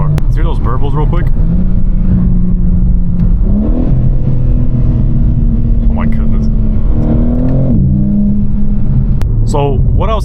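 BMW M4 engine revving up and settling back with rumbling exhaust burbles, heard from inside the car during a late-night drive; loud, sustained tone rising in two pushes, with brief talk at the start and end.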